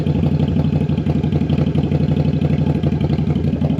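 Custom bobber motorcycle engine ticking over at steady idle during carburetor synchronization, close and loud, with an even rapid pulsing throb and light mechanical clatter, no voices.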